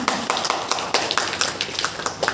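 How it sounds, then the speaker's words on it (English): A small group at a Toastmasters club demo meeting in Pune claps in a steady, fairly quick patter of sharp individual hand claps. It is moderately close and sounds alone, with no one talking over it. "A big round of applause"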